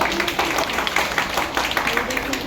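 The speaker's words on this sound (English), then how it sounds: "One round of applause for her for taking her." Audience applause for a female judge at a food-selling event, dense steady clapping from a crowd with voices mixed in throughout.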